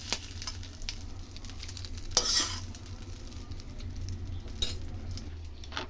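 Cooked curry is stirred together with a spice mixture in a pan for chakuli pitha, giving soft continuous stirring and scraping with a couple of louder clinks of utensil on metal.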